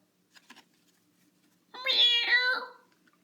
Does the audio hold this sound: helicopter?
no